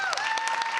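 A brief burst of dense crowd clapping from a showcase audience, steady and fairly loud, with a whistle-like tone running through it.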